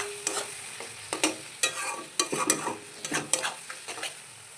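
Spices fry in hot oil for chili chicken while being stirred, a soft sizzle beneath repeated scraping clinks of a spoon against the pan in an irregular rhythm, close by.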